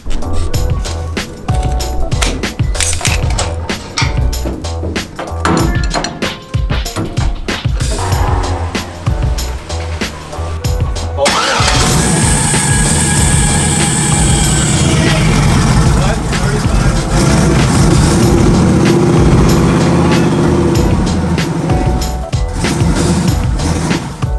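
Twin-turbo Chevrolet S10 engine firing up and settling into a loud, steady idle after some workshop noise and talk, with people speaking over the running engine.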